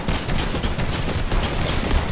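Rapid rifle gunfire from the Fortnite video game, a dense, continuous burst of shots filling the whole moment at steady loudness with no talk.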